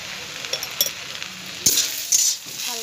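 Taro leaves and tamarind cook in a pan, giving a soft steady sizzle, and a few sharp scrapes and clinks of stirring come close and clear in short bursts.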